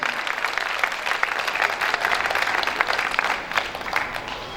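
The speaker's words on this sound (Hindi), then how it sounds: "जोरदार ताली मेरे भगवान के लिए।" Loud, sustained applause from an audience at a spoken performance, dense clapping that swells and holds steady with no voices over it.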